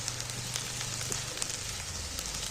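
Chopped green chilies and onion sizzling in a hot oil pan while being stirred for a chicken curry, a steady close hiss and crackle throughout with faint scraping, no voices.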